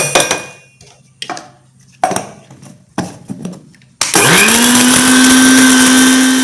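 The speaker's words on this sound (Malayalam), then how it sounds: "നമുക്കിത് ചെറിയ കഷ്ണങ്ങളായി മിക്സിയിൽ മുറിച്ചിടണം" Banana leaf pieces in a kitchen mixer grinder: several sharp knocks and clatters, then the motor starts abruptly and spins up into a loud, sustained whine that runs to the end.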